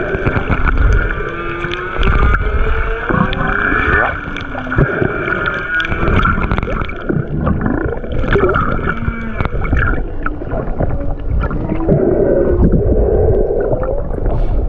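Whales singing underwater off Tonga: long sweeping moans, rising whoops and higher squeals overlap loudly and continuously over a low rumble of water and engine-like noise.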